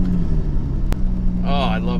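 A car engine with rolling antilag idles roughly, with a sharp pop cutting through the low rumble and a rising rev near the end. A voice speaks briefly over it.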